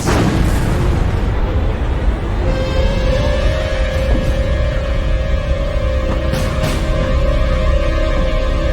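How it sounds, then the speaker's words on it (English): The battleship Bismarck's eight 15-inch guns fire in a dramatized naval battle against Hood, heard as a heavy, rumbling boom with dense low-end roar and sustained tonal rumble filling the whole stretch, loud and without speech. "Bismarck fires her 8 15-inch guns."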